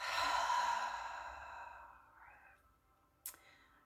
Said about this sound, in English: and out through the mouth.